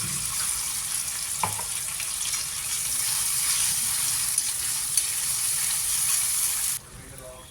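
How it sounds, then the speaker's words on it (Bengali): Chopped tomato with ginger-cumin paste fries in hot oil in a home kitchen, a steady broad sizzle running close and continuous with a brief clink of a utensil near the start, cutting off abruptly at the end. "আমি টমেটো কুচিটা একটু তেলে একটু ভেজে নেব।"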